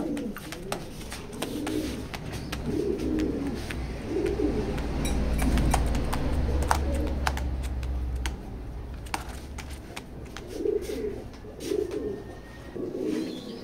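Racing pigeons cooing nearby in repeated soft, low, rolling phrases, with scattered clicks and rustles from the birds moving around and no talk.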